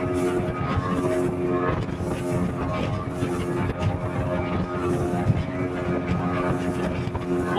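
A fishing boat engine runs steadily at speed on open water, a continuous loud drone with wind buffeting throughout and no clear talk over it.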